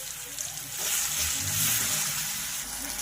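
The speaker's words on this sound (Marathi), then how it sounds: "यामध्ये घालूया आपण ते वाटण आणि छानपैकी असं फ्राय करून घ्यायचं आहे आपल्याला हे वाटण" Ground paste added to hot oil with spluttered mustard seeds, curry leaves and cumin sizzles in a steady, bright hiss that swells after the first second, with faint talking underneath.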